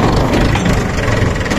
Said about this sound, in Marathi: ट्रॅक्टर सफारी डेंजर आहे.